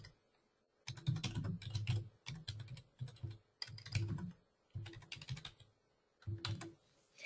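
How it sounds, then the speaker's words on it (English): Keys clatter on a computer keyboard in quick bursts of typing separated by short pauses, close and fairly quiet, with no voice over them. "So you would type your question"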